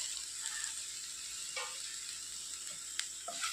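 Egg chammanthi with curry leaves stir-fried in a pan, a continuous soft bright sizzle with occasional light scrapes of a spatula against the metal.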